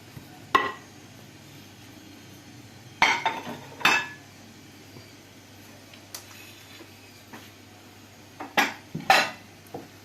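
Ground spices such as cinnamon are stirred together in a bowl, producing a few sharp clinks and scrapes of a spoon against the bowl in short clusters, separated by quiet pauses, with no talking.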